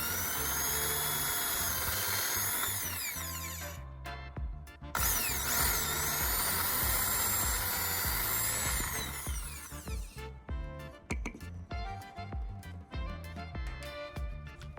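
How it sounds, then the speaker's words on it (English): An electric drill bores two holes in a brush handle, its loud high whine running in two long sustained passes with a short stop between, then sputtering into choppy bursts as it winds down. "Using my drill, I'll carefully create 2 holes where I made the marks."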